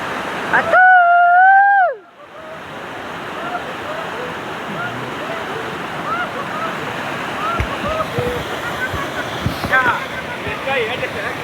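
Water pours down from above in a man-made fall at an amusement park in Mysore, a loud continuous rushing roar that follows a brief sliding electronic tone at the start.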